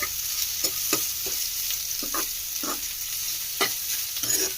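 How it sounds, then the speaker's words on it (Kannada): Onions deep frying in oil until browning, cooked for a greens palya: a constant crackling sizzle broken by repeated spatula stirs and scrapes at uneven intervals, close up with no talking. "ಇದನ್ನು ಸ್ವಲ್ಪ ಡೀಪ್ ಫ್ರೈ ಮಾಡ್ಕೊಳ್ಳಿ. ಸ್ವಲ್ಪ ಕಂದು ಬಣ್ಣಕ್ಕೆ ಬರಬೇಕು ಈರುಳ್ಳಿ."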